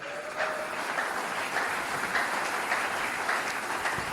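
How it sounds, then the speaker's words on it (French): A church congregation applauds and cheers for the Lord, a steady mass of clapping hands from a crowd, moderately loud and sustained with a roomy, slightly distant feel. "Acclamons très fort pour le Seigneur."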